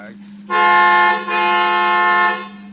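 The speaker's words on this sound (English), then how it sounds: "What are you honking now for?" A car horn in an old-time radio suspense drama sounds one long, loud, steady honk lasting about two seconds, with a brief dip partway through, heard close and alone.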